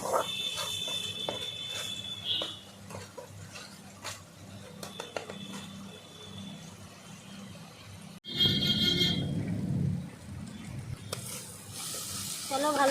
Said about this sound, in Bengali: এক থেকে দেড় মিনিট ধরে মশলাটাকে ভালো করে কষিয়ে নিতে হবে